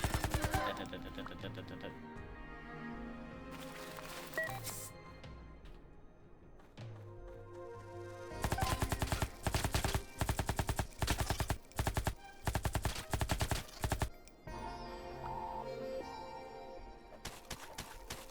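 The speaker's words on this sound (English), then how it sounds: "Surprisingly accurate big fuck-off machine gun at that." Big heavy machine gun fired in the video game Farworld Pioneers, loud rapid bursts of automatic fire in long rattling strings, with quieter game sounds between the volleys.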